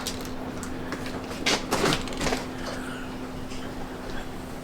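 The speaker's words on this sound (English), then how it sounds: "We're gonna open the back door." A back door slides open onto a snowstorm in New Orleans: a brief rumbling, scraping rush of a couple of seconds rises over steady background hum, then settles into a quiet room tone.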